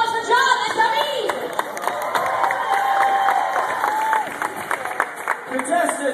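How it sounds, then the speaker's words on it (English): A game-show crowd at a beach-party stunt applauds and cheers for two volunteers, a dense, continuous wash of clapping and shouting with excited voices mixed in throughout. "Let's get a round of applause for John and David!"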